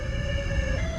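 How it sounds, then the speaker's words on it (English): Emergency siren sounding during a Fitch Mountain evacuation exercise, a steady tonal wail held across the whole second with a strong sustained pitch over rumbling background noise, no talk. "These are our high-low sirens."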